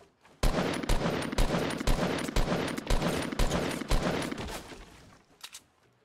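Rapid bursts of gunfire from the Fortnite video game, loud and repeated in quick rhythmic volleys for several seconds before tapering off.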